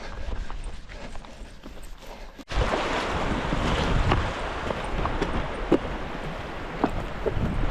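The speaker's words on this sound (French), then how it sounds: "Petit passage de rivière." Running river water during a crossing on the Tromsø Skyrace mountain course, a quieter stretch giving way to a sudden louder, close rushing flow with splashes and scattered knocks from footsteps.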